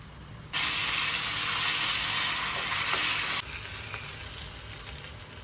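Hing and kasuri methi hit hot oil for lasooni aloo palak, bursting into a loud, steady sizzle that holds for about three seconds, then drops to a softer, continuing fry.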